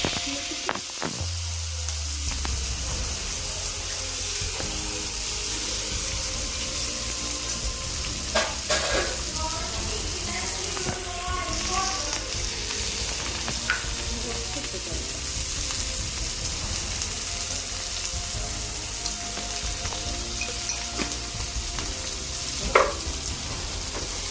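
Tomatoes sauté in a pan with green chilies, giving a steady close sizzle and frying hiss. Occasional stirring scrapes and clinks sound through it, and there is no talk.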